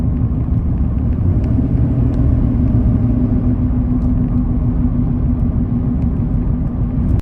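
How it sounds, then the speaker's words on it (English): Constant low whirring and road rumble inside a 2007-2013 Chevrolet Silverado while driving, from a worn wheel bearing, steady and unbroken throughout. "that whirring sound that I'm constantly hearing while driving"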